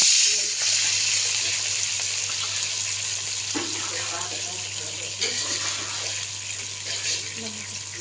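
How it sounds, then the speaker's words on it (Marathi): Half a cup of water goes into a pan with hot oil before jaggery is added for fenugreek laddoos, giving a steady, hissing sizzle that slowly eases, with a few clinks and stirring noises. "अर्धा कप पाणी टाकणार आहोत आणि याच्यात गूळ टाकून उकळून घेणार आहोत."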